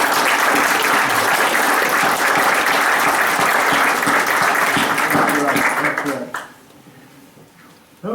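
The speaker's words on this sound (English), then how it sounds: "So I would like to give Sherry and Dick some applause." Loud audience applause fills a meeting room for two honored members of an organization, a full sustained roar of clapping that stops abruptly near the end, leaving a quiet room before a sound returns at the close.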